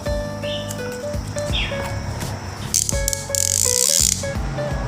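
A jigging fishing reel's ratchet clicks and rattles in quick bursts, with a sharper, louder whirring rattle near the end; no one speaks.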